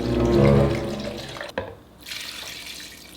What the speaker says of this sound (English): Now we just need 4 cups of apple cider, and we are pouring that right in.